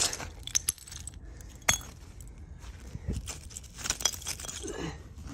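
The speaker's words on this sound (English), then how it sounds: "Some more bottles, smashed up bottles." Smashed glass bottles clink and chink as they are dug out of rubble during barn floor preparation, with scattered sharp, irregular tinkles and scrapes at close range and no talk.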